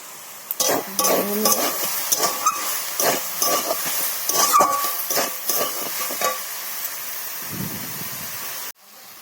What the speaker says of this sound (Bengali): শাকটাও ভাজা হয়ে এসছে, এর মধ্যে হালকা করে একটু সর্ষের তেল দিয়ে দেবো